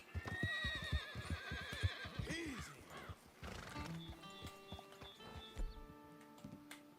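Horse whinnies and clip-clopping hooves in the Red Dead Redemption 2 video game, with a loud neigh early followed by steady hoofbeats, while someone talks over the game sounds.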